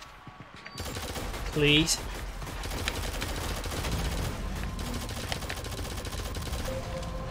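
Rapid gunfire in the shooter game Shadowgun Legends, a dense continuous volley of shots with a brief louder tone burst early on. A voice speaks over the shooting.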